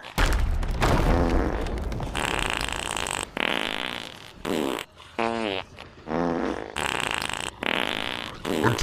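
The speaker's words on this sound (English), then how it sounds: "I am unleashing the fart hacks." Fart sound effects blasted as a prank in Sea of Thieves, a rapid series of loud, wet, buzzing raspberries of varying pitch, one after another with short gaps.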